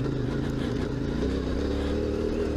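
CFMOTO 450MT motorcycle being ridden, its engine droning steadily with a low rumble and a broadband wind-like rush, held at constant speed, with no talking.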